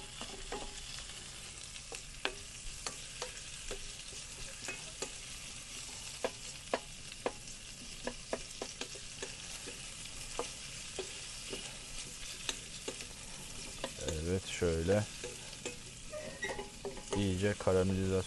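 Onions and ground meat for hamburgers fry and caramelize in a pan inside a camper van, giving a steady close sizzle with scattered stirring clicks and utensil taps. A few livelier scrapes come near the end.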